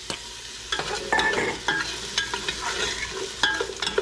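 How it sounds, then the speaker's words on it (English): Diced onion lands in a pan of frying garlic with a burst of sizzling, followed by stirring scrapes and steady crackling oil, close and loud with no talking. "And with that, we are going to put our diced onion."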